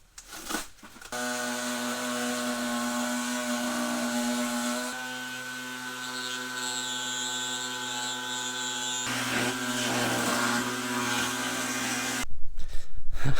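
A power tool trims radiator ducting with a sustained, loud, steady whine, its pitch shifting slightly in sections. It starts after a brief rustle and stops abruptly near the end before a burst of handling noise.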